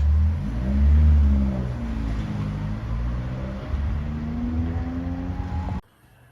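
A 1979 Ford Escort RS2000 rally-style car revs and pulls away, its engine rising in a loud throaty surge, then fading as it drives off before cutting out abruptly.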